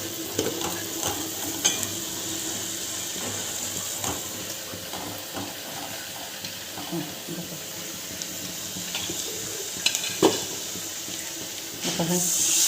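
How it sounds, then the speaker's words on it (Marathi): Mutton biryani ingredients sautéing in oil, a low steady sizzle with scattered scraping stir clicks and a burst of clatter near the end, no talking. "छान तेलामध्ये परतून घ्यायचं"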